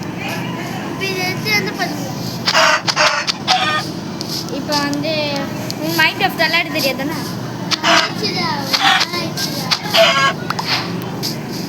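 Minecraft chicken clucks and crowing sound in repeated bursts over steady background music, while someone talks over them.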